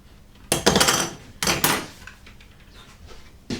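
Two loud, rasping strokes of a utility knife drawn along a steel straight edge, each lasting about half a second, then a quieter pause.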